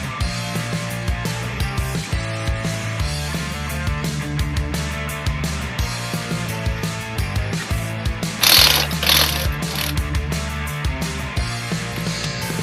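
A jack is cranked down under a Ford F-250 during a Timbren SES suspension install, producing continuous mechanical ratcheting clicks up close, with a brief louder burst near the end.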